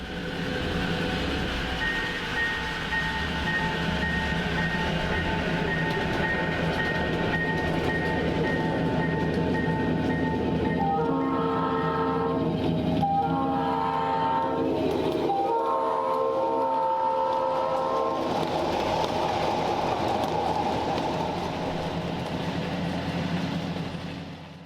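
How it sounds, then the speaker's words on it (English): A ride-on live steam model railroad train pulled by F7 locomotives crosses a bridge, rumbling steadily throughout and sounding a sustained multi-tone horn midway, with no talk. "F7s cross Beaucert Bridge as the train heads into Tanglefoot"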